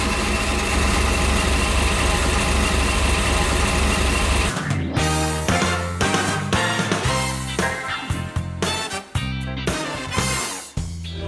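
A 1,100 hp twin vortex-supercharged, fuel-injected drag engine at a Fun Ford Weekend Finals drag racing event in Ennis, Texas, with a steady loud drone that cuts into a choppy, lumpy idle with uneven pulses and small dips.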